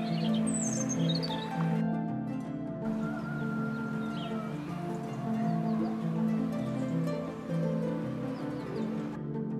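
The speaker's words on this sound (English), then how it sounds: "You can hear the sound of the birds" Several birds chirp and sing over a steady low hum of background noise in the village of Makrinitsa on Mt. Pelion, Greece, their calls scattered and fairly distant.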